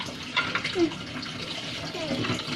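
Tap water running steadily into a sink while dishes are washed at home, a continuous close splashing wash with light clatter and a voice talking over it.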